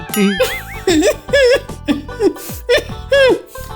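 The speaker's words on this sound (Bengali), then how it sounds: "কি কাশছো কেন?" A woman coughs in a string of short, voiced, rough bursts with brief gaps, close and loud, some edging toward a wheezy laugh-like sound.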